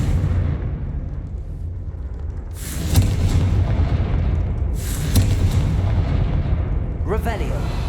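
Booming blasts from the Confringo fire spell in the video game Hogwarts Legacy, two bursts a couple of seconds apart over a rumbling game background, followed by a short whooshing sweep.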